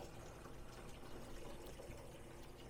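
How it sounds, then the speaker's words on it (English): Water circulating over the evaporator plate behind the water curtain of an ice machine during its wash cycle, a steady, low rushing flow that continues without a break. "you'll start to hear water circulate over the evaporator plate behind the water curtain."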